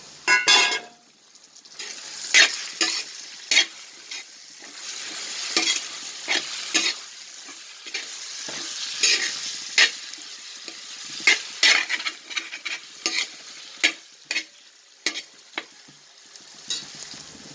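Tomatoes and shallots frying in a pan for prawn biryani, a continuous soft sizzle broken by repeated sharp scrapes and clinks as a utensil stirs against the pan, close and clear with no speech.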